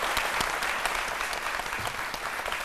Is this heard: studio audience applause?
yes